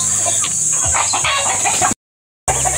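Native chickens cluck repeatedly close by on a small farm over a steady high-pitched hum, with a brief cutout of silence near the end.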